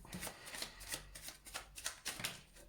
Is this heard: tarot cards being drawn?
yes